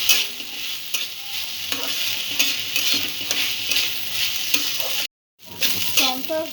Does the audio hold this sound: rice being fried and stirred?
yes